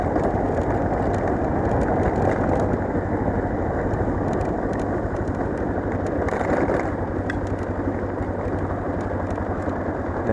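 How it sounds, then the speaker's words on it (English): A motorcycle engine hums steadily at low revs in fourth gear while riding, with constant wind rush over the microphone. "Idling along in 4th gear here."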